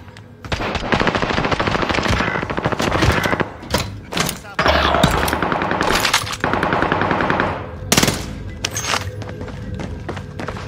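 PPSh submachine gun hip-fired in a shooter rattles in fast, sustained close bursts with brief breaks, thuds and footsteps mixed in, and voices chatting over the firing.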